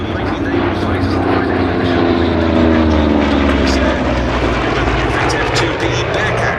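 A Grumman F8F Bearcat naval piston fighter at the Duxford airshow holds a loud, steady propeller drone in a stiff crosswind, with a commentator talking over it throughout.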